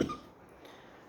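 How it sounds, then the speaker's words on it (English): A single short cough from a woman bursts out at the start, then fades into quiet room tone with faint rain noise in the background. "I have a little cough all of a sudden"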